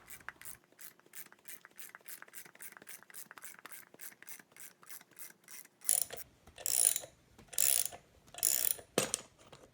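A ratchet cranked in quick, even clicks while a socket and bearing separator work a bearing race out of a wheel hub, followed by heavier grinding, scraping pulls of metal on metal close by.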